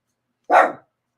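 A single short, loud dog bark sounds alone, close by, with silence before and after.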